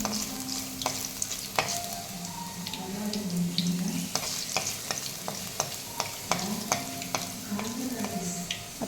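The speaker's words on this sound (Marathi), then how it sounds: "त्याला असं कडेकडेने तेल खालीवर करून आपला वडा खूप छान वरती फुगून येतो।" Vada for a mutton vade meal sizzles in hot oil as it puffs up, with a steady frying hiss, occasional ladle clinks and splashes as oil is spooned over it.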